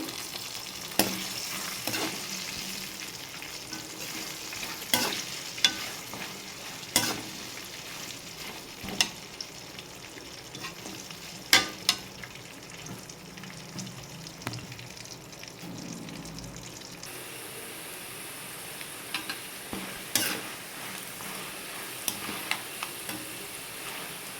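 Ivy gourd fries in a pan with peanuts and tempering seeds, giving a steady close sizzle broken by sharp intermittent clicks and scrapes of stirring, alone without any voices.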